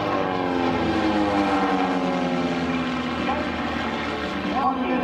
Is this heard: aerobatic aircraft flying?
yes